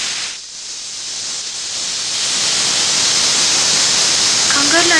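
Pressure cooker venting steam in a kitchen: a steady broad hiss that swells and grows louder over several seconds, with a faint whistle-like tone appearing near the end.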